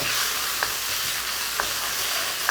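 Sauce added to shredded pork in a wok for Peking-style shredded pork, sizzling steadily as it is stirred, with a few soft scraping clinks of the utensil against the pan; no talking.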